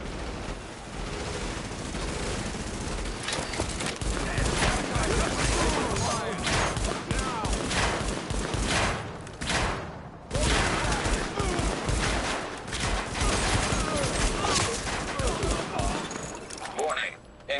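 Dense gunfire from Tom Clancy's The Division fills the scene with continuous overlapping bursts and shots, loud and close, mixed with game effects and a synthetic announcer voice.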